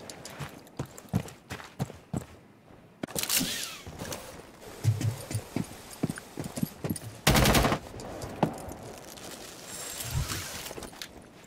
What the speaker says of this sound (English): Her gun is a little wild.